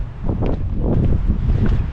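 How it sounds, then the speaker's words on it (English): Strong wind buffets an outdoor spot among red rock formations in Arches National Park, a steady low roar of gusts rumbling close against the microphone throughout with no voices. "It is a little windy though, but it's a very nice day."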